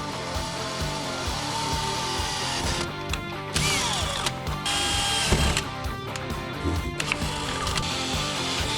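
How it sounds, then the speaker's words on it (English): A power drill bores holes into the OEM rocker panel of an S650 Ford Mustang to mount rocker splitters, whirring loudly and continuously with uneven grinding and a few short stops and clicks. "we are going to have to drill into the OEM rocker"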